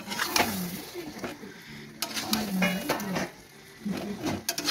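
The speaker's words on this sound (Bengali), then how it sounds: "এখন ভালো করে নাড়িয়ে চাড়িয়ে নেবো, মশলাটা ভালো করে মাংসের সাথে মাখিয়ে নেবো" Duck meat and spices are stirred in a pot, with soft scraping and clinking strokes in an irregular rhythm, fairly quiet, while a voice speaks intermittently.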